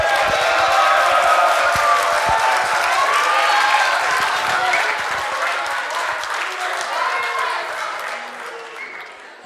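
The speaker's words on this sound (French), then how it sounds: "donc on va les applaudir bien fort." Sustained, loud applause from the audience at a school read-aloud contest, dense clapping with a little cheering that fades slightly toward the end.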